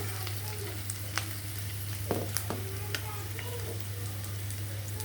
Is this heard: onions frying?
yes